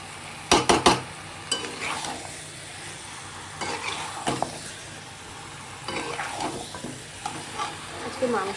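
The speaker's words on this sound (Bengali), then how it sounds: "আজকে মাংসটা রান্না করছি" Mutton curry cooking in a pan with spices and green chilli, giving a soft steady sizzle broken by a few sharp stirring scrapes and clinks near the start, close and moderately loud.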